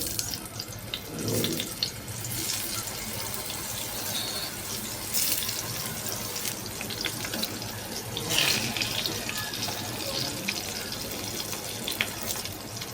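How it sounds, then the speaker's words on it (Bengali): Taro pieces for a Bengali kochu bhaji drop into hot oil, setting off a steady, loud hissing sizzle that runs continuously at close range with no talk over it. "তেলটা গরম হয়ে আসলো, কচুগুলো দিয়ে দিব। এবার কচুগুলো দিয়ে দিচ্ছি।"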